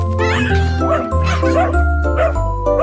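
A puppy yips and barks repeatedly over a bouncy children's song with sung vocals and steady instrumental backing, the barks loud and close.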